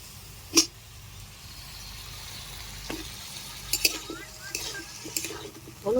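Potatoes tumbling into a pan of fried onion greens in a traditional village kitchen: a sharp clatter, then a low steady sizzle with scraping and stirring knocks toward the end.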